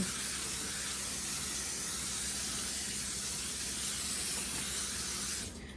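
Baker's Joy flour-based baking spray hisses onto a cake pan in one continuous, close, steady burst lasting nearly six seconds before cutting off abruptly.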